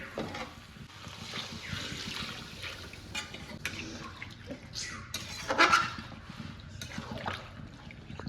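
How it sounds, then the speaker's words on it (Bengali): Water is poured into a pot of braised meat, a soft, sustained trickling and splashing close by with faint clatter of the pot, steady for several seconds with brief louder surges. "মাংস সুন্দর করে কষানো হয়ে গেছে এখন জল দিয়ে দেবো"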